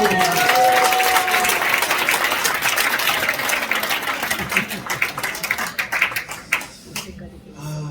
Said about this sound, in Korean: 우리 장인 목사님 모시겠습니다. 박수.